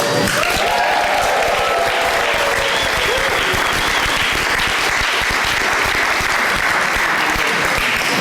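An audience at a family candlelight service applauds loudly and steadily, a dense wash of clapping close by that holds for several seconds.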